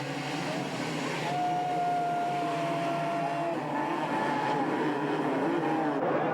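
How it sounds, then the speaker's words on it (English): Motocross bikes rev their engines at the starting gate in a 1995 race, a dense, steady roar of many engines with rising and falling revs that runs throughout. "They rev the engines, waiting for the gates to drop for moto number 1 to be underway."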